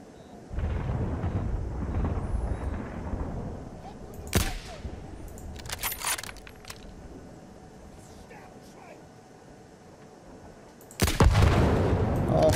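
Explosions in the video game Battlefield 1 arrive as sharp cracking bursts followed by rumbling booms, with a heavy blast near the end, under stretches of low ambient rumble.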